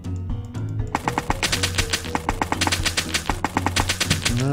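Rapid bursts of gunfire from the video game I am Vengend, repeating in quick rhythmic volleys over a steady game music bed, with no talk.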